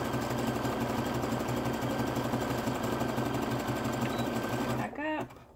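A sewing machine runs steadily as it stitches elastic held under slight tension, its fast even whir continuing for several seconds before stopping abruptly, followed by a brief rustle.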